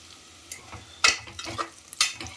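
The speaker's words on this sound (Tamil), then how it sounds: "காய்கறிலாம் வதக்கிட்டுருக்கோம்." Vegetables are stirred and sautéed in a pan for sambar in a home kitchen, with a soft sizzle under a few sharp scraping clinks of a spoon against the pan.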